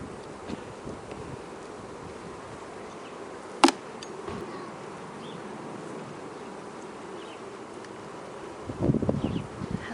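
Honeybees buzz in a dense, continuous hum from an open hive during an inspection while frames are pulled, with a sharp click partway through and some rustling handling noise near the end.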